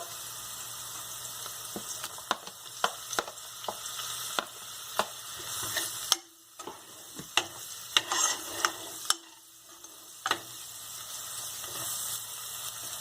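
Capsicum frying in a pan for pav bhaji, with steady sizzling throughout and repeated sharp clicks of a spoon stirring against the pan, briefly dropping out twice.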